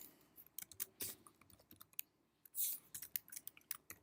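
Typing on a computer keyboard: quiet, irregular clusters of close key clicks with short pauses between bursts and one louder clack near the middle.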